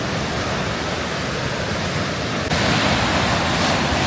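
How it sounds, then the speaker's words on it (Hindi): Flowing water near Zermatt, Switzerland, makes a constant loud rushing wash that fills the whole stretch without pause or voices. "ये पानी की आवाज़ एंजॉय करें"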